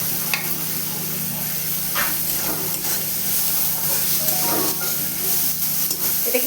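Chilies sizzle steadily in hot oil in a pan while a spoon stirs them for oats khichdi, a continuous close hiss broken by occasional scraping strokes, with no talking.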